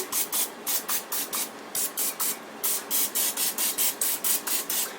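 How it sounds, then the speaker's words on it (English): Short hissing bursts of olive oil cooking spray fire in quick succession over peppers and onions, a steady pumping series of sprays close by with tiny pauses between them. "I'm going to spray these peppers and onions with olive oil spray."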